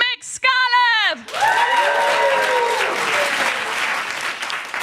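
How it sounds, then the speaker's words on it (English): Audience applause for a comedian at a stand-up show, starting after a brief burst of voices and swelling into steady, dense clapping that fills the room for several seconds, with occasional cheers rising above it. "Please give a warm round of applause for the amazing Mick Scarlett!"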